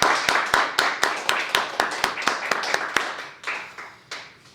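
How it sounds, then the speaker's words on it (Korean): Sparse, distinct claps ring out in a church as the congregation gives thanks, a dozen or so sharp reverberant hand claps in irregular rhythm, thinning out toward the end. "하나님의 은혜에 우리 감사하는 박수를 한번"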